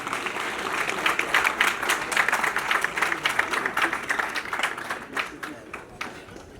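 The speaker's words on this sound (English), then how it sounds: "Let's welcome him with a round of applause." An audience at a military graduation ceremony applauds steadily and fairly loudly, a dense wash of many hands clapping that gradually thins out toward the end.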